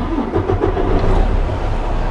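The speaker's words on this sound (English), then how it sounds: "Okay, I'm gonna start the engine." A truck engine turns over and starts at a driving school yard, a steady low rumble building and holding close by for a couple of seconds, with no talk over it.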